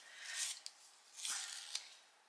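Two short bursts of a colored pencil being sharpened, scraping close up and fairly quiet, with no voices.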